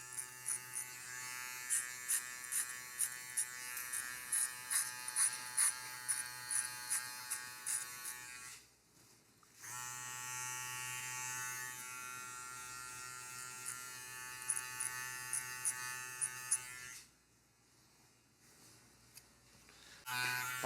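Electric hair clippers fitted with a number 2 guard buzz close by while cutting hair for a skin fade, running in long stretches with short pauses and faint rhythmic ticking over the steady hum.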